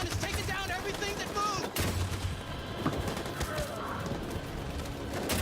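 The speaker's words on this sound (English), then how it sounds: "That machine gun is taking down everything that" Machine gun fire in a video game rattles as a dense, continuous burst of shots with one brief pause, loud and close, while a voice talks over it.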